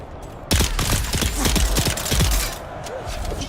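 Rapid automatic gunfire in the survival game Dune: Awakening, a dense burst of close, loud shots that starts abruptly and rattles on for a couple of seconds before easing into a roaring wash of battle noise.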